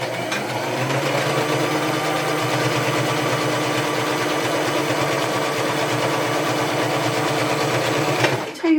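A sewing machine runs steadily stitching across a felt corner of a scrappy Christmas potholder, a continuous close mechanical whir with rapid needle rhythm lasting throughout, alone with no voices.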